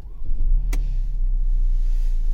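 A Mercedes C-Class engine starts and settles into a deep, steady idle rumble heard from inside the car, with a sharp brief click early on and no speech.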